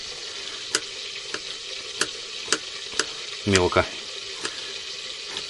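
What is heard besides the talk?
chicken leg frying in a pan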